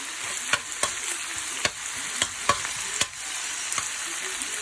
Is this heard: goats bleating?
no